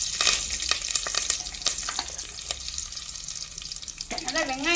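Green chilies frying in hot oil for biryani rice give a steady broadband crackle with sharp pops throughout, and a voice comes in briefly near the end.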